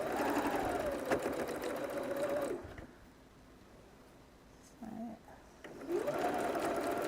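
A sewing machine stitches a quarter-inch seam, running in a fast, steady whirring drone, then stopping. After a brief pause and a short burst it starts again and runs on, close up with no talking.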